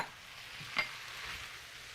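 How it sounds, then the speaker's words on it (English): A spoon stirs garbanzo beans and black beans in a pot of sweet potato chili, a brief soft scrape and clink amid a faint sizzling hiss, no talking. "Gonna stir that up."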